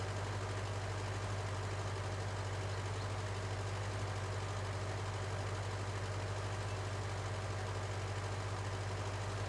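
The engine of a farm vehicle in the Xtreme Survival video game drones steadily, a constant low hum at moderate level with no talk.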